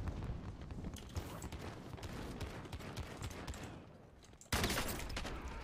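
Rapid gunfire from the video game Warzone, a dense run of overlapping shots and bursts that stays steady, dips briefly, then returns loudly near the end.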